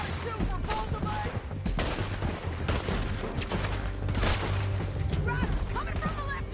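Dense gunfire in a Wild West shootout game on PlayStation 5, rapid overlapping shots and bursts rattling continuously and loudly, with shouted voices mixed through the battle.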